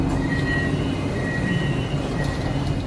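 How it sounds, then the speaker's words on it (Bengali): Steady rumble inside a metro train in Kuala Lumpur, Malaysia, a continuous low roar with faint high squeal, close and fairly loud throughout, no voices. "প্রথম মেট্রোতে উঠলাম মালয়েশিয়া এসে।"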